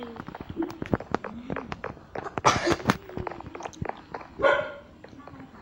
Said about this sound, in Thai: โอ้ เสียงหมาเห่านะครับ